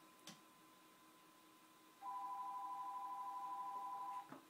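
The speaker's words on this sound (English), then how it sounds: "I know that's my wife calling me on the phone." A phone rings with a steady electronic tone, a wife calling, sounding faint and continuous for about two seconds after a quiet tick, then cutting off.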